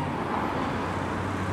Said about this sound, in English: Please excuse the traffic noise